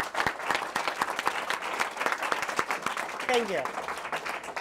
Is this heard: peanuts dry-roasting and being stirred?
no